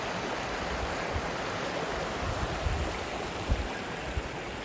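Stream water runs over limestone at the Wolf River headwaters in Pogue Creek State Natural Area, a steady, close, full rushing wash with a few small splashes and no voices.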